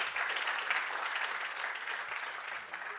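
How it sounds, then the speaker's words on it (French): An audience applauds a speaker at an evening event, a steady, moderately quiet wash of clapping that holds evenly for a few seconds. "on peut applaudir Philippe Lemoine"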